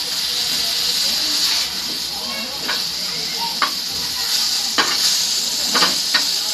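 Drumstick (shevaga) pieces fry in a pan with a continuous steamy sizzle and hiss, while occasional soft clicks and scrapes from stirring sound close by and a voice talks faintly underneath.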